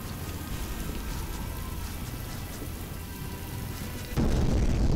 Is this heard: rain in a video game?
yes